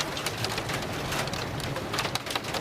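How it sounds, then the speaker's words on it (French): Hailstones pelting down in a thunderstorm make a dense, continuous patter of hard hits around the listener, loud and unbroken, with no voices. "Ah, je me reçois des grêlons."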